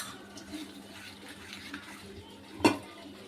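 Batter for pati sapta pancakes is stirred with lukewarm milk, giving soft, quiet mixing swishes close by, then a single sharp clink of utensil against bowl near the end.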